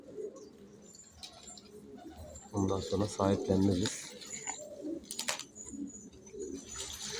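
Pigeons in a rooftop loft coo and call in a steady mix, with a louder burst of cooing in the middle, while someone talks nearby.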